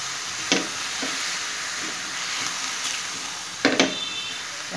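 Boneless chicken pieces and tomato frying together in a pan without water, a steady close hiss of sizzling oil with a few brief louder crackles and stirring scrapes.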